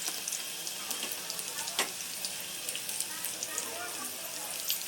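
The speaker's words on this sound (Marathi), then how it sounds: "फोडणीला कांदा टाकलेला आहे" Onion dropped into hot spiced oil for a tempering, giving a steady faint sizzle with light crackles through the clip and no clear talk.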